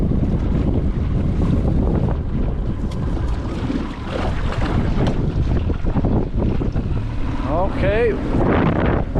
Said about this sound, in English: a little bit too strong wind there playing around